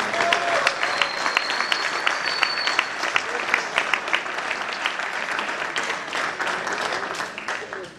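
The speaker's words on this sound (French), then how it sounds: "merci d'applaudir, Lubomir Jean-Caric." A crowd applauds a table tennis player being introduced at a club match, with steady clapping in which individual sharp claps stand out, and a voice faintly underneath.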